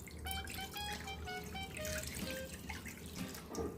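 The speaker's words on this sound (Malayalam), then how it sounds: "ഈ എടുത്ത് വെച്ച ജ്യൂസ് ഇതിലേക്ക് ഒഴിച്ചു കൊടുക്കാവേ" Strained carrot juice poured into a pan, a close trickling, gurgling stream with small rising watery tones as the liquid fills it, steady and moderately loud, no voices.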